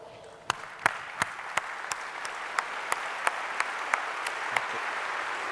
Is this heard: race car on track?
no